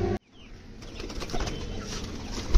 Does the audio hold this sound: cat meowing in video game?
no